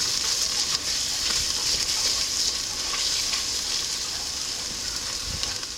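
Tomato paste sizzling in a pan as the base of a vodka sauce from home-canned tomatoes, a steady, bright frying hiss that carries on evenly with no talking.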